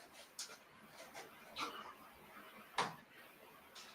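Faint dog whimpers and short yips in a quiet indoor space, with three brief soft cries spaced about a second apart over low background hiss.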